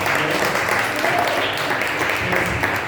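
Steady, dense clapping fills a church as the congregation applauds, a continuous wash of hands without a break, fairly loud and close, with a faint voice briefly rising above it.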